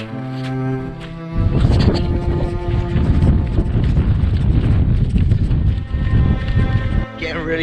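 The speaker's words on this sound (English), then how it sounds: "it is absolutely freezing and quite windy" Strong, freezing wind on a mountain during the Cheviot Goat ultramarathon run buffeting and roaring across the microphone, gusting loudly for several seconds with faint footsteps or movement underneath.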